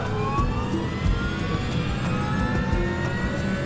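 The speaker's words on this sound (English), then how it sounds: "he records the sound of the engines from inside the cockpit" Aircraft engines spooling up, captured from inside the cockpit of an airliner in a crash-investigation reenactment of Flight 90: a steady, loud broadband roar with a whining tone, continuous throughout with no talk.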